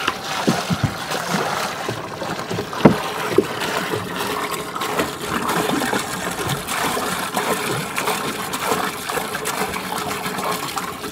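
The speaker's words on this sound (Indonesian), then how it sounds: "Nah, pertama sudah mulai kita masukkan air." Water poured steadily into a large container for brewing a PGPR culture with rice bran, a continuous close rushing and splashing that stays fairly even throughout.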